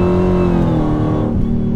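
A 935 hp Dodge Hellcat accelerates at half throttle, a loud, close engine roar with deep harmonic growl whose pitch shifts as the revs change, with no talk over it.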